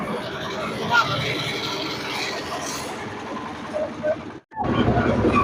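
A fairground ride train circling a village fair, a continuous rumbling run with rattling wheel and carriage noise and crowd murmur, briefly dropping out near the end before resuming.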